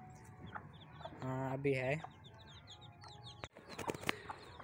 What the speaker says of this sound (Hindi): अब हमने एक और मुर्गा भी लिया है